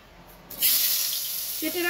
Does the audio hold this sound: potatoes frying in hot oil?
yes